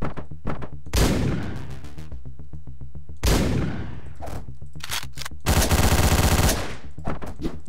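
Shotgun blasts from the video game Hotline Miami go off in loud, sharp, repeated bursts, several shots in quick succession separated by brief pauses, over a pulsing electronic beat.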